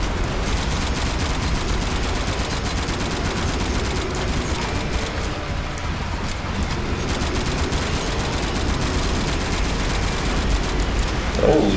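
Gunfire in Gmod Zombie Survival video game: dense, continuous rapid shots like a fusillade, loud and close throughout with no pauses.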